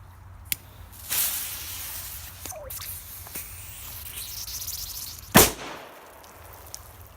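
Mefisto Manna MA2 firecracker set off in water, one sharp loud bang with a splash near the end, after a fizzing fuse, a few small pops and water sounds, and no talk.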